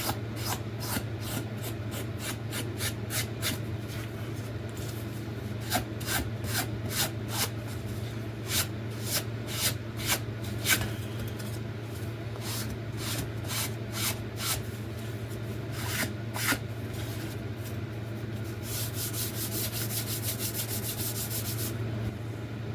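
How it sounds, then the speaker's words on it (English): Steady rubbing and rasping of a sanding stick on the edge of a wooden RC glider part, repeated in quick strokes over a constant low background hum, close up, no talking. "just using the sanding stick, we'll just roll that front edge over like that"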